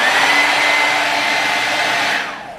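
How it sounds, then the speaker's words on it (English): A hooded bonnet hair dryer runs on its high setting, a loud, steady whooshing roar of blown air with a faint whine, close by, winding down at the end. "you just start your blow dryer. So I'm going to put mine on high setting."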